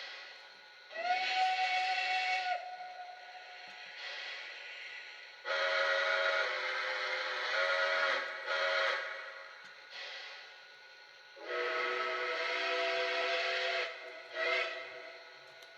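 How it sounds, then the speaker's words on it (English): Steam whistles from a Lionel Legacy CNJ Camelback 774 model locomotive sound in three long, loud chime blasts, each held several seconds with short pauses between, with no talking. "Let's listen to some of the other whistles this locomotive has to offer."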